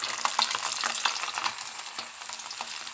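Cumin and mustard seeds crackling in hot oil for a lemon pickle tempering, dense sizzle with sharp pops and spits, close, fading slightly toward the end, no voices.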